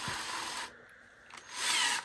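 A power drill cuts a countersink hole into thin scrap wood, whirring in two close bursts with a brief pause between them and no talking.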